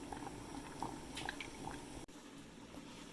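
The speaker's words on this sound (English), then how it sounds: "I'm trying to make sure that they're all fully covered by the water as it's boiling" Water bubbling at a steady rolling boil in a water-bath canning pot holding jars, a dense simmering wash with small pops and gurgles throughout, heard close with no talking.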